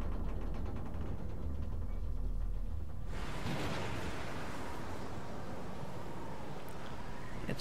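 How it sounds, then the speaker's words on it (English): Rain and wind in the game Xenoblade Chronicles 2, a steady rushing hiss with a low rumble, turning brighter and fuller partway through and then holding at an even, moderate level. "It's raining, and there's wind."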